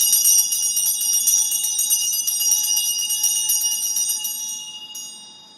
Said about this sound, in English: I do not bring that bell out all the time, but this is a fucking bell moment.